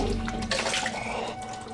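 Tap water runs from a faucet in a steady, close rush with a faint tonal hum underneath, continuous for the whole moment.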